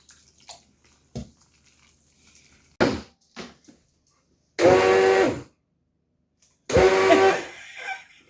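A blender whirs through banana fritter batter in two loud bursts of just under a second each, with a few clunks and knocks in between and quiet gaps around them.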